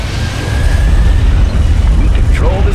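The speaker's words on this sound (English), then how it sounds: "How about those rocket bombs?" Rocket bombs exploding in Command and Conquer: Generals, a continuous loud low rumble of blasts with a faint whistling whine and distant chatter of radio-style voices over the top.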